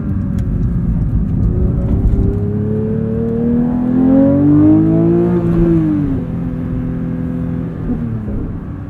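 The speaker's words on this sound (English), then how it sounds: "Play around in track mode with auto rev matching here a bit." Porsche 911 GT3 with a manual gearbox in track mode, its engine revving with automatic rev-matching: a loud, steady engine note climbs and sweeps upward in pitch, then drops sharply as a gear changes and settles to a lower drone.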